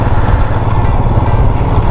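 A motorbike engine runs steadily and loud at close range while the bike is being parked on a ride from Lato to Manali in Ladakh, a continuous low rumble with no talk over it.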